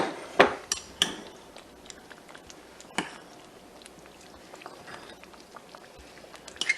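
A spoon stirs chili and noodles in a pot, making scattered metallic clinks and scrapes against the sides at an irregular pace, close by and fairly quiet.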